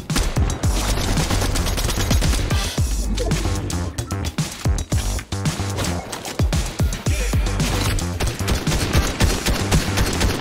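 Rapid, loud gunfire in Fortnite, dense automatic bursts and sharp repeated shots continuing throughout with hardly a pause, layered over game effects.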